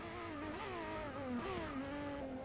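Racing Ferrari engine at Monza in Forza 6, a high-pitched screaming wail with harmonic tones that shift as the revs climb and fall through gear changes, steady and close.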